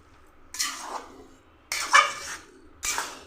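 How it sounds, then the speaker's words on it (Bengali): A spoon stirring grated coconut and jaggery in a pan on a gas stove, heard as three separate scraping, clinking strokes against the metal in a quiet kitchen. "এবার আমি নারকেল আর গুড় পাক দিয়ে নেব।"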